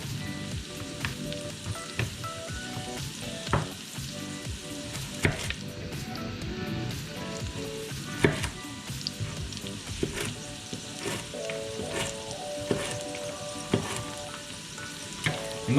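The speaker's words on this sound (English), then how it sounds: "celery gives the most taste if you fry it a little bit in the beginning" Chopped celery frying in oil or butter in a pan for asparagus soup, a continuous close sizzle with occasional stirring scrapes and taps.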